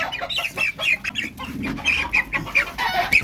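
Oriental chicken hens clucking in a steady, busy chatter, several birds close by in a backyard with short repeated calls and no one talking.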